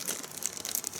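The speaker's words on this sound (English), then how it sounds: "I hate these baggies." Plastic food storage baggie crinkling as it is pressed and sealed shut, a quick burst of close, crisp rustles with no speech.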